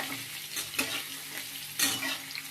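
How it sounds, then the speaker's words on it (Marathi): Onion frying in a pan gives a close, continuous sizzle, with two brief louder bursts as the pieces are stirred or tossed. "हा कसा भाजतोय कांदा"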